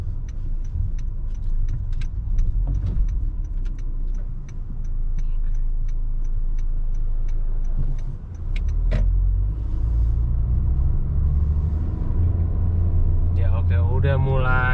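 Steady low engine and road rumble from inside a Honda Jazz GE5 hatchback being driven, with regular ticking like a turn signal and someone talking throughout.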